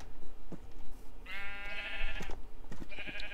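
A blocky Minecraft sheep gives two short bleats, the first longer and wavering, the second brief, heard fairly close over light game background noise.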